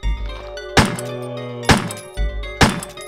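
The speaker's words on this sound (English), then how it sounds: "Actually, I'll use the pistol here." Pistol shots fired at a zombie in the Resident Evil video game, four punchy thuds spaced roughly a second apart, each with a short ringing decay, loud and without talk.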